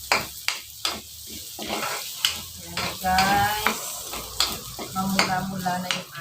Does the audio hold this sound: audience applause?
no